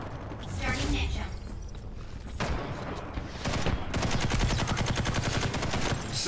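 Rapid automatic gunfire in the Ghost in the Shell shooter game rattles in fast, loud bursts, building into a sustained machine-gun stream near the end, mixed with mechanical clanks.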